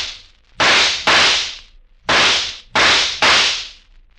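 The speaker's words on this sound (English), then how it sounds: "6 shots from a Colt 44" Colt .44 revolver firing in a dramatized crime broadcast: five or six loud, sharp cracks in an uneven sequence, each with a short decaying tail, close and alone without talk.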